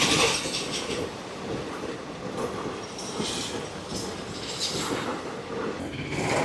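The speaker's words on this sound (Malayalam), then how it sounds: "ഇവിടെ റെയിൽവേ ക്രോസിൽ വെയിറ്റ് ചെയ്യുക ഇപ്പോൾ ട്രെയിൻ വരാനായിട്ട്" A train rolls past close by at a railway level crossing, a loud rumbling drone with rhythmic clacking of wheels over the rails and occasional metallic squeals, continuous throughout.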